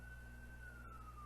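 A faint ambulance siren wails in the distance, one slowly falling tone held steady under a low background hum.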